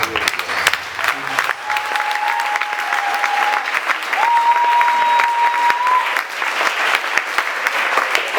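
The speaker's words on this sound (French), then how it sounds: "que quelqu'un applaudisse fort" Congregation at a worship service applauding loudly and steadily throughout, with a sustained tone, likely an instrument, holding beneath the clapping.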